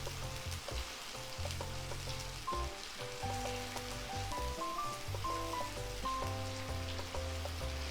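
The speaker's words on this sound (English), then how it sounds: "I am going to fry this onion paste just for 5 minutes" Onion paste fries in a pan with a steady, close sizzle and crackle, while music plays over it throughout.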